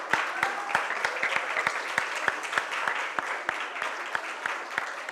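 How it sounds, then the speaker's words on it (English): An audience at a university day ceremony applauds awardees with steady, dense clapping from many hands, sustained throughout at moderate distance. "Can we have a big round of applause for the awardees"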